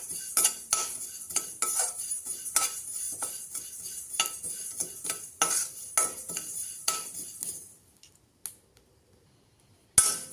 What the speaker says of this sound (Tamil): எள்ளு பொரிய ஆரம்பிக்குதுங்க